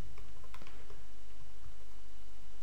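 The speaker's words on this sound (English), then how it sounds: "So in here you want to type the following." Typing on a computer keyboard while setting up virtual hosts on Ubuntu: a few scattered key clicks over a loud steady background hum, close but sparse.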